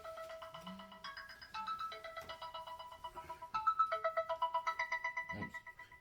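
A phone ringtone plays alone, a bright electronic melody of repeating tones that shifts pitch across several phrases and grows louder near the end.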